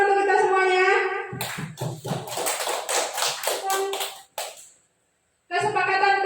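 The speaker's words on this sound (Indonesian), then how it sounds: "Tepuk tangan untuk kita semuanya" Classroom clapping from a first-grade class, a burst of broadband claps in the middle between stretches of a teacher's speech, with a short silent gap before talking resumes.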